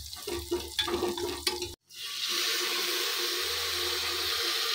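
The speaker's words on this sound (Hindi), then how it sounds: "यहाँ पे धुल रहे हैं चावल" Rice being washed in water in a home kitchen, first with choppy sloshing and stirring, then after a brief break a steady rush of running water continues to the end, no talk.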